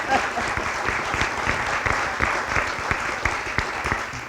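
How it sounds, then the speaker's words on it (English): An audience applauds an award recipient at a spring sports awards ceremony, steady and dense clapping with individual sharp claps standing out, close and full throughout with no voices over it. "Let's give him a round of applause."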